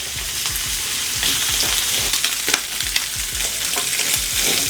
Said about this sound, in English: Just a little bit of avocado oil. We're going to go in with our sausage